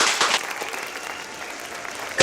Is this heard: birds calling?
no